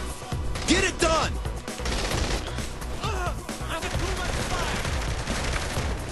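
Sustained gunfire in Saints Row The Third, with rapid, rattling bursts and loud cracks running throughout, dense and near, while voices shout over the shooting.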